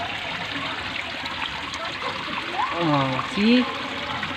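Water trickles and pours steadily at a jungle resort, a continuous splashing flow with people talking and exclaiming over it.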